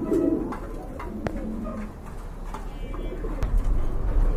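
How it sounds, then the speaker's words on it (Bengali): Domestic pigeons kept for sale, including a black and a blue bar, coo close by in soft, rolling, repeated calls over a low background rumble. "এখানে কিন্তু আরেক জোড়া কবুতর আছে"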